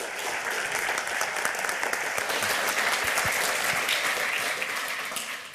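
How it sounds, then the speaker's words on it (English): A conference audience at the 28c3 hacker congress claps in sustained, even applause to welcome a speaker, loud and dense throughout before tapering off slightly at the end. "Give a big round of applause to Redbeard."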